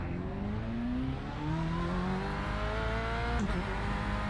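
A Corvette C8.R GTE race car engine drones loud and steady on track with a deep, layered tone, its pitch climbing through gears before a brief shift dip near the end.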